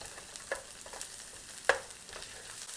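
Onions just added to a hot pan fry with a soft, even sizzle, joined by a couple of sharp utensil clicks from stirring, quiet and without speech.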